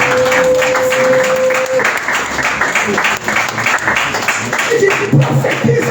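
A congregation at a French-language church conference applauding loudly, sustained dense clapping with cheering voices mixed in, close and full throughout.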